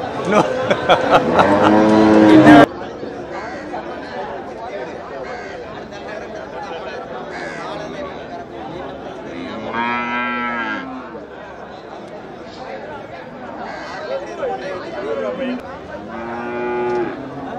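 Cattle at the Melapalayam cow market moo several times, one loud close call at the start and later deeper moos at intervals, over a steady murmur of people talking nearby.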